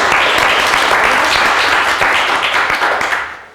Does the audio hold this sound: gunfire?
no